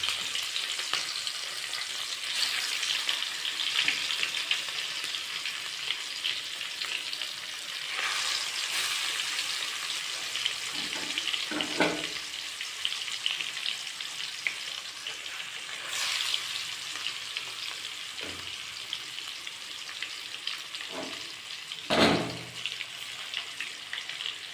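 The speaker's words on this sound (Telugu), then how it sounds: "ఇలా చేపలు వేయించుకోవాలి" Pieces of fish frying in oil, a steady bright sizzle running throughout with a few short clinks or stirs, no voices.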